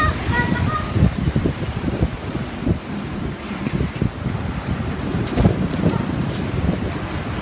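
Typhoon Chaba's winds batter Jeju in a continuous rough roar with gusty surges and microphone buffeting, while voices talk excitedly nearby.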